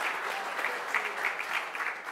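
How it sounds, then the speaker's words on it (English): Audience applause at a ZBrush 4R7 reveal presentation, a steady dense wash of clapping from a crowd that holds at an even level throughout, with no voices over it. "Give them a round of applause."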